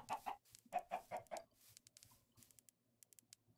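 Chickens in the Minecraft video game give a run of quick, close clucks, followed by soft, sparse clicks and pattering from their feet.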